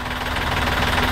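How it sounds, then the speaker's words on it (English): A steady boat engine runs nearby with a broad, even rumble and vibration, continuous and unchanging throughout, with no voices. "You can maybe hear the engine running behind me"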